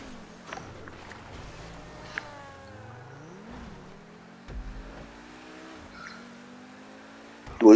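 A race car engine accelerating during a Grand Theft Auto V race, its fairly quiet tone climbing and dropping in pitch through repeated gear changes, with small knocks near the end.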